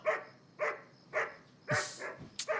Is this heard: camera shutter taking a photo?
no